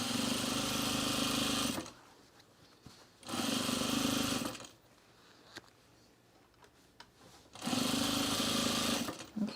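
A sewing machine stitching a rug runs in three steady whirring bursts of a couple of seconds each, separated by quieter pauses with faint handling clicks.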